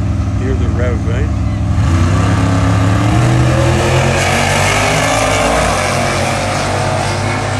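A black Corvette revs its engine at the St Thomas drag strip, a loud, close roar that swells after a moment and then holds as a continuous, heavy drone.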